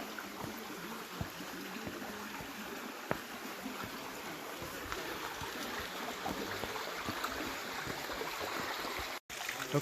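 Stream water flows steadily into a small pool at a punch bowl formation in Turkey Run State Park, a continuous close rushing and trickling wash with no voices heard.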